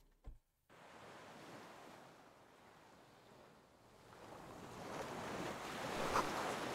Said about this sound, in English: Water rushes below, far down below